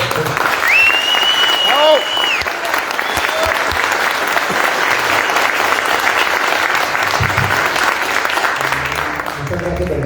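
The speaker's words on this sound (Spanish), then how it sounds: "yo sí quisiera que lo recibamos con un aplauso a todos." An audience at a Medellín metal music talk claps steadily throughout, a full round of applause with a brief whistle near the start.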